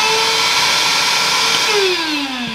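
A Bauer 20V cordless 3.5-gallon wet/dry vacuum from Harbor Freight runs steadily at close range, a loud whining motor hum whose pitch slides downward near the end as it spins down, with no talking.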